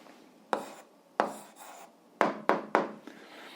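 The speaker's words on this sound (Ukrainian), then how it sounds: "Записуємо відповідь, пишемо відповідь" Answer written out in an 8th grade algebra exercise, several short, close scratching strokes of a pen on paper in quick uneven bursts over a quiet background.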